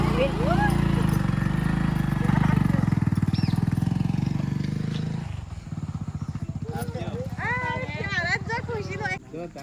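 A scooter revs and rides away, its engine drone loud and close at first, then dropping and thinning as it pulls off, with voices calling out over it.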